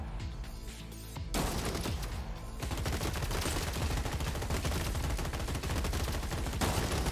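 Robots firing guns in the video game Gladiabots: a quiet, steady hum at first, then rapid continuous automatic gunfire that holds at a loud, dense level until the end.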